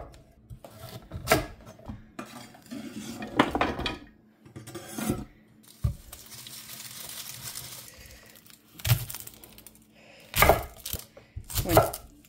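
A kitchen knife chops carrot ends on a board for soup stock, sounding as irregular clusters of close, sharp thuds and taps separated by quieter pauses of handling.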